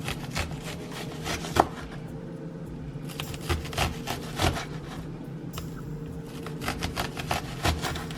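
A knife works through onions on a wooden board, giving repeated close, uneven chops and scraping strokes that run throughout.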